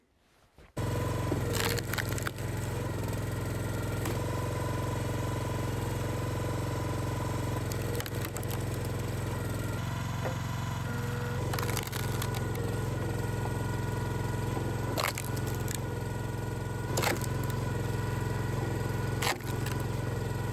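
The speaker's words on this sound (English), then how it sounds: "Put the ear plugs in and split it into smaller pieces." A log splitter runs steadily for about twenty seconds while splitting oak and madrone wood, its engine drone loud and constant after a quiet start, with occasional sharp cracks and knocks from the wood.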